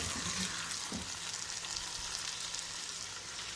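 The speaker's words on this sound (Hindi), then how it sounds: "मसाले डालने के बाद हम 5 मिनट फ्राई करेंगे।" Potato, eggplant and onion fry with tomatoes and spices in a pan, giving a continuous, fairly soft sizzling hiss with small crackles throughout.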